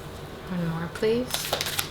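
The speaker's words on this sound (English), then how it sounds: "let's get an oracle card here from the Illuminated Earth deck" Oracle cards from an Illuminated Earth deck are shuffled and drawn in a quick, close riffle of papery flicks and slaps. The bursts are short, with faint vocal sounds underneath.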